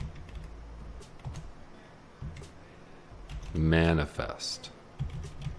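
Fingers tap on a computer keyboard, a few sparse clicks and short bursts of keystrokes, close by, while someone speaks briefly in the middle.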